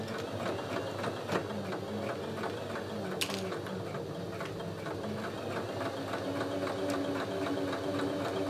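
A sewing machine runs steadily while stitching a French seam joining the front and back of an apron, a continuous close mechanical hum and rattle with occasional small clicks throughout.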